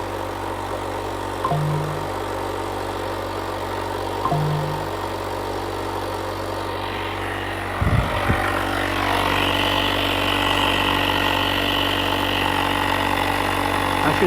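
A cordless tire inflator runs steadily while pumping air into a car tire to 35 psi, a constant mechanical drone with a couple of short beeps and a brief clunk partway through.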